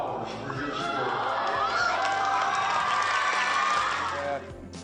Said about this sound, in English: I want to hear you cheer as well